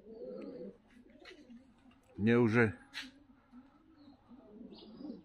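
Pigeons in a Tbilisi loft coo and call, with a loud burst of cooing midway that stands out over the flock. Someone speaks at moderate volume before and after the burst.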